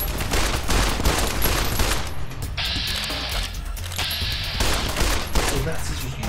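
Submachine gun fire in Fallout: New Vegas, dense rapid bursts of shots with clicking mechanical sounds between them, loud and continuous over the game's background noise.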